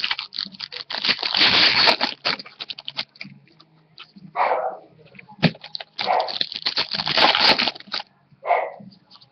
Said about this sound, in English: Thomas, stop barking so much